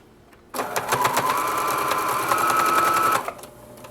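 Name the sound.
sewing machine top stitching a seam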